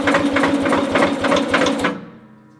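A vintage NSU Prinz engine cranks without catching, giving a loud, steady run of rapid rhythmic chugging beats for about two seconds before it cuts off and fades into quiet.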